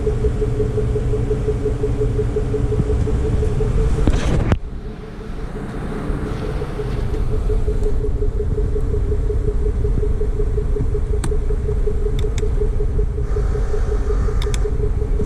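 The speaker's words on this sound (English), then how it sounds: "Your inflator works now." An air suspension inflator compressor hums steadily on a Trailblazer SS during rear air suspension replacement, a close, continuous buzzing drone with a brief dip partway through and a few faint clicks later.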